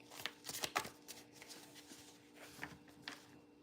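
Playing cards shuffled by hand during a live spiritual arts session, a series of soft riffling bursts and taps at close range, fairly quiet over a low background hum.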